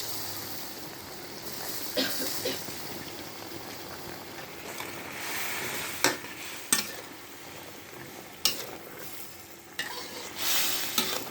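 Thai catfish curry with crisp eggplant and pea eggplants simmering in a pot, a soft steady bubbling hiss broken by a few sharp clinks of a utensil against the pot, close and fairly quiet, without talk.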